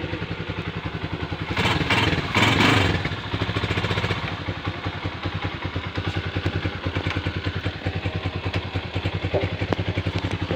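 A motorcycle engine, just tuned up with no more internal ticking, idles steadily up close with an even, rapid pulse, briefly revving louder early on before settling back to a smooth idle.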